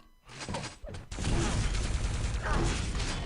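Rocket explosions in a Quake-style arena match at a tournament: a few sharp blasts, a brief lull, then a heavy, sustained roar of overlapping booms close and loud.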